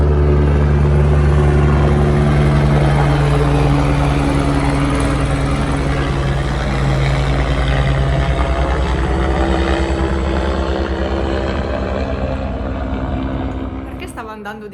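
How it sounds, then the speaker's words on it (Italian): A helicopter flies low overhead on a sunny day, its steady rotor thrum loud and close for most of the stretch before starting to recede near the end; no one speaks. "Perché stava andando di traverso l'elicottero?"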